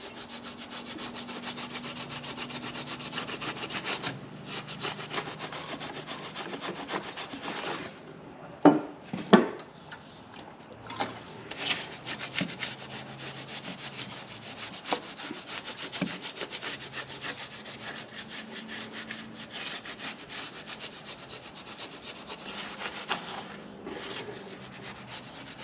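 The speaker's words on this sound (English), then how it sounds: "And I'll wipe this off good. That should clean all that old residue off." Old residue is wiped off a part with acetone during a Hemi engine swap, heard as a continuous close rubbing and scrubbing sound with a few sharp knocks in the middle.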